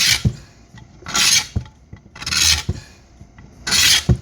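Harsh rasping scrapes repeat in four separate strokes with short pauses between, close and fairly loud, as a chisel scrapes old foam edge off a JL Audio 10W6 subwoofer speaker.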